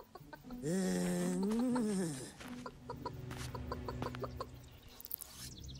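Chickens clucking in a rural village coop, with one loud drawn-out rising call followed by softer scattered clucks and rustling nearby.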